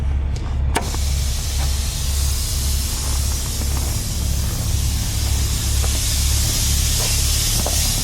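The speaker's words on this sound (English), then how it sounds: "Drop it off the way I picked it up by hitting the brake release back here." An air brake release on a vintage trailer lets out a steady, loud hiss that runs for several seconds after a sharp click, over the low rumble of an idling truck engine.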